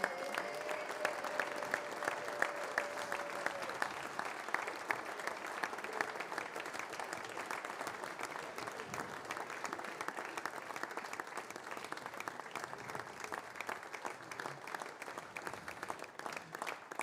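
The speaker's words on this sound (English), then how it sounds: "Give them a big round of applause" A crowd at a football awards ceremony applauds former players called up on stage, steady sustained clapping from many hands that carries on alone, without talk, and fades slightly toward the end.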